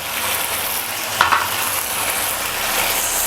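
Chopped green chillies hit a pan of Peshawari tomato chicken karahi, setting off a loud, close sizzle with a brief burst of crackling as they drop in, then a steady hiss of frying.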